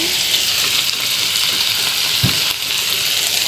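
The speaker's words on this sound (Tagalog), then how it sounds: "So, ayan, luto ng ating longganisa ah." Longganisa sausage frying in a pan gives a steady, close, bright sizzle with crackling spatter throughout and a soft thump near the end; no one speaks.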